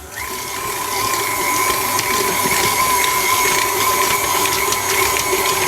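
An electric mixer beats butter and icing sugar at medium speed, spinning up in the first second, then holding a loud, steady motor whine with a faint rattle of beaters in the bowl.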